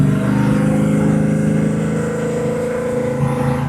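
A restored 1956 Chevrolet 210 custom coupe with a cammed big block Chevy V8 revs loudly and close, a deep, continuous rumbling roar that swells and holds.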